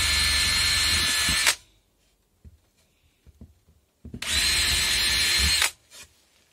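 An electric screwdriver drives screws into a wooden beehive body, two long steady whirring runs of about a second and a half each, loud and close, with faint handling knocks between them.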